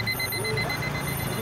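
Alarm clocks brought by Paris activists at a political rally ring together as a continuous steady electronic tone, heard as a constant bed of sound with faint crowd noise.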